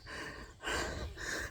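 A person pants heavily, a few faint, breathy, rasping inhales and exhales in an uneven rhythm with nothing else heard.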